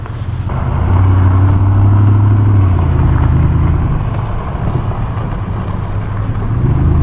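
A car approaches and drives by on a road in Colorado's South Platte area, its steady low engine rumble swelling and then holding close, with no talk.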